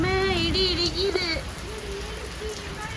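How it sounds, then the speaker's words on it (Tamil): Steady hiss of rain pouring down outdoors during a thunderstorm, continuous and fairly loud, with a high whining tone and harmonic wails riding over it early on and a faint voice at the end. "இன்னைக்கு நல்லா மழை"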